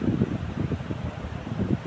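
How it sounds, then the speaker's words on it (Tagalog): Strong wind from Typhoon Nando buffeting the microphone, low rumbling gusts that surge and ease in uneven pulses, loud and close with no other clear sounds. "Sobrang lakas po ng hangin"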